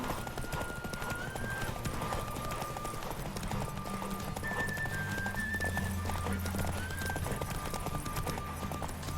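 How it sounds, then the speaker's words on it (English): In The Witcher 3, several horses clip-clop along in steady, overlapping hoofbeats, close and continuous, with game music and ambience running beneath them. "Why are there random fucking horses in the fucking way?"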